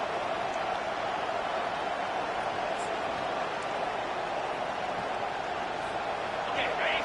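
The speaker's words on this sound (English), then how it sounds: "This crowd bringing the energy and noise early on the option." Steady stadium crowd roar in the college football video game NCAA 2K25, a dense continuous wash of noise held at an even loudness throughout, with a few faint brief higher tones near the end.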